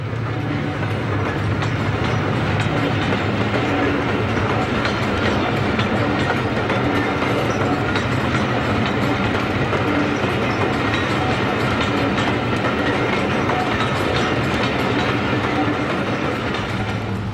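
A Class 55 Deltic diesel locomotive, number 55021, arrives hauling the Aberdonian train in May 1974, its steady rumbling engine and rolling wheels filling the scene with continuous loud clatter and drone.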